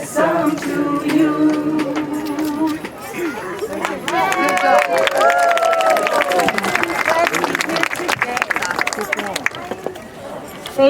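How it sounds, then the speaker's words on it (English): At a Twin Cities families-for-ceasefire gathering, a crowd applauds a performer after her song, with rapid clapping running under overlapping voices, chatter and some cheering, loud and sustained throughout. "Another round of applause for Barb, everyone."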